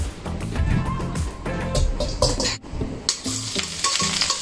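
Scallions sizzle in hot oil in a wok, a loud, dense crackle broken by rhythmic stirring and tossing, with a brief lull before the frying surges again.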